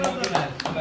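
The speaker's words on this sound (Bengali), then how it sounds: "জনগণের তালিয়া চাই তো।" A brief burst of hand clapping from a group at a gathering after a man-of-the-match mention, mixed with loud voices talking over it.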